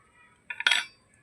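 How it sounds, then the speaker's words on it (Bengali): A fork presses down on the folded edges of flour and semolina dough, giving a brief close clink and tap of metal against a plate, heard alone. "মুড়ে নেওয়ার পরে আমি কাঁটা চামচ দিয়ে চাপ দিয়ে"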